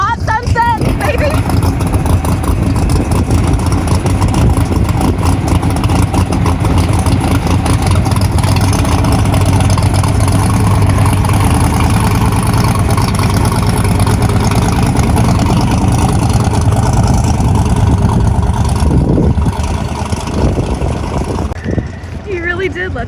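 A Camaro drag car pulls away after a pass at an NHRA drag strip, its engine rumbling loud and steady throughout before easing off near the end.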